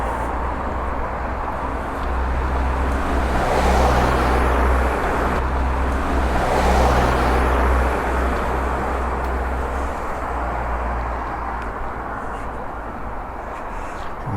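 Traffic on the road from Melksham to Bath near a Wiltshire village, a continuous roadway roar with a couple of vehicles swelling louder as they pass, then fading back to a steady hum.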